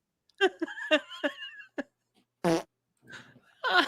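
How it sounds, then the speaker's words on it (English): A comedic fart sound effect: several short sputtering bursts in quick succession, then separate brief blasts after pauses, up close and loud, with giggling at the end. "This fart sounds really short."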